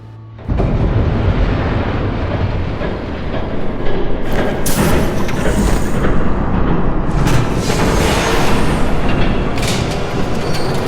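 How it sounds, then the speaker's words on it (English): A train rumbles past in a Batman video game, a loud, steady broadband roar filling the whole stretch with rattling surges and heavier bursts partway through, no voices over it. "There's a train coming."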